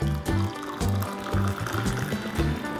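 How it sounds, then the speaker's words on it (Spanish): Hot water poured into a small cup, a trickling fill that comes in repeated pulses under background music. "El segundo paso es uno muy divertido y consiste en poner el agua"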